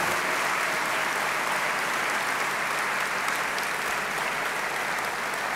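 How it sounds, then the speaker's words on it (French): Loud, dense applause from a party audience at a political speech, sustained evenly throughout with no one speaking over it. "Merci de les applaudir largement."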